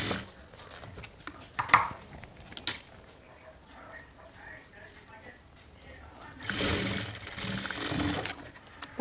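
A sewing machine stitches a jute hand purse in short intermittent bursts of mechanical clatter, with a longer louder run near the end, amid handling noises and faint voices.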